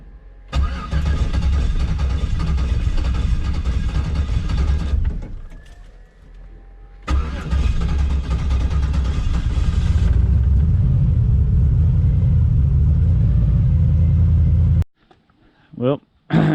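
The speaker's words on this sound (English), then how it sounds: "Cold start definitely needs some work." A Mazda RX-7 engine cranks and catches on a cold start, revving loudly and roughly, cuts out briefly, then starts again and revs hard before dropping off.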